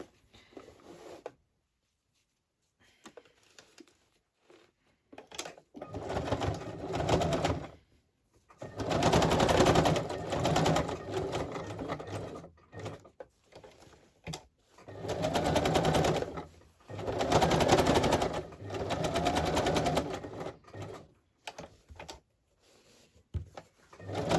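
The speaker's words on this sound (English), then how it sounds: "Okay, so this one, I'm going to stitch here." A sewing machine stitches a vintage lace journal cover in loud, steady mechanical runs of several seconds each, separated by short pauses and small handling clicks, with no talking over the stitching.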